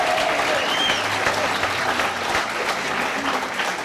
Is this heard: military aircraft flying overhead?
no